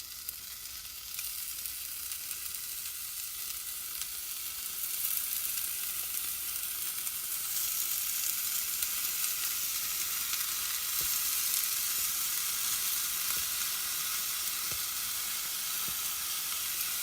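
Lean steak searing in a 6-inch mini skillet gives off a continuous sizzle that starts moderate and grows louder and brighter partway through, with soft crackles and no voices.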